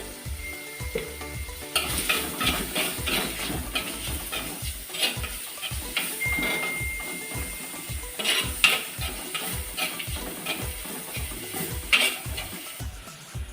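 Onions sprinkled with a little salt sauté in a pan, a steady sizzle and frying hiss under repeated rhythmic scraping strokes of a spoon, close and clear with no talk.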